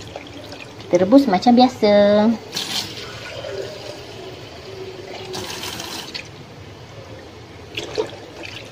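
Tap water pours briefly into a cooking pot for boiling eggs, a short splashing rush near the start, with voices talking over and around it in a home kitchen.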